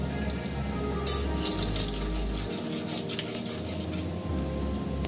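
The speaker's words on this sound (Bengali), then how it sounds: "ওই তেলের মধ্যে এবার আমি গোটা গরম মশলা দিয়ে দিচ্ছি, একটা তেজপাতা দিয়ে দিচ্ছি, আর অল্প একটু সাদা জিরে দিয়ে দিচ্ছি।" Whole garam masala, a bay leaf and cumin seeds sizzle in hot oil, a steady close hiss with low hum from the stove.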